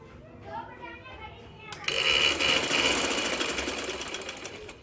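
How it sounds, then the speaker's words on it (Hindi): A sewing machine stitches a seam along the side of a kurta, starting abruptly after a woman's speech and then running as a fast, steady mechanical whir close by until the end. "इस तरह करके अब इस साइड पे हमने सिलाई लगा लेनी है"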